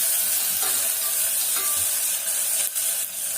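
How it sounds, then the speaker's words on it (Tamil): Onions with green chillies sautéing in a pan, a steady close sizzle with occasional stirring scrapes running throughout. "கொஞ்சம் வெங்காயம் மட்டும் கொஞ்சம் நல்லா வதங்கட்டும்."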